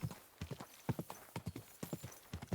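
Horse hooves clip-clop in a steady four-beat walking rhythm in the video game Kingdom Come Deliverance 2, close and fairly quiet, with no speech over them.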